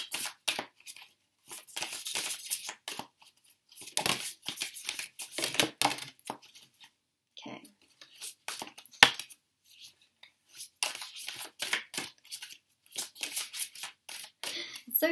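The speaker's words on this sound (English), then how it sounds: "So funny actually when I'm shuffling these because they just move around so much." Round tarot cards being shuffled by hand, giving bursts of dry papery riffling and sliding that come and go in clusters with short pauses between them, close and fairly quiet.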